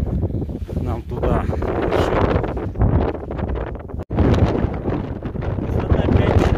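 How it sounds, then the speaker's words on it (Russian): Strong wind on the saddle of Mount Elbrus at about 5,400 m during a night climb, a continuous loud buffeting roar that beats against the microphone with only a brief drop in the middle. "Здесь ветер хоть поменьше дует."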